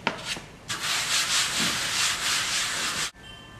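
Rice flour rubbed into wooden bread boards by hand for ciabatta loaves, a steady close scraping rub lasting a few seconds after a couple of brief taps, then stopping abruptly.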